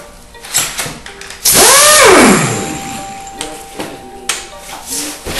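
Air impact wrench driven by an air compressor, run in reverse to loosen the single main bolt holding a lawnmower blade: a loud, close burst of about a second of hammering rattle, followed by quieter mechanical clicks and handling noises.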